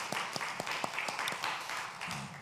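A church congregation at a Sunday service applauds with a short burst of scattered clapping, a few distinct claps standing out before the sound fades.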